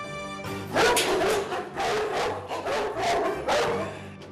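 Four very large Ovcharka dogs barking aggressively at visitors, a rapid string of loud, deep barks close by, several overlapping, lasting throughout.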